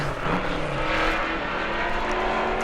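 A super stock race car lapping the New Smyrna track during qualifying, its engine droning steadily at speed and fairly close, with no talk over it.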